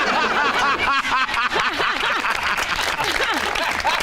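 Studio audience on a Pakistani TV comedy show claps and chuckles in a lively burst, with scattered laughter and a voice talking over the steady applause.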